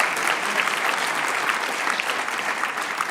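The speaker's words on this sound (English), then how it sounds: "big applause from Brussels" Big applause from a clean-tech conference audience in Brussels, a full steady patter of many hands clapping at a constant, fairly loud level throughout.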